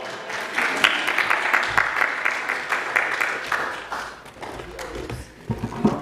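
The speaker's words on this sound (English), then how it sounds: "Yeah, you can applaud." A church congregation during a Sunday service applauds steadily for several seconds, a dense wash of many hands clapping with a few louder individual claps standing out.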